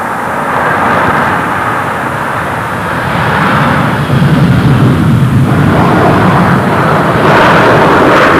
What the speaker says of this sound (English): Concorde en approche finale.